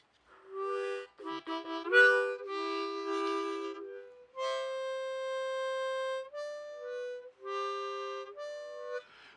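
A keyboard voice imitating a harmonica plays a short melody of sustained reedy notes, some bent and slurred, with brief gaps between phrases and no talk.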